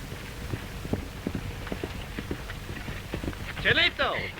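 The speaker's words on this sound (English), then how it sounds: "Señorita, te lleva un buen caballo" Horse hooves clip-clopping at a quick, even pace, moderately close, under someone talking and with a brief burst of other sound near the end.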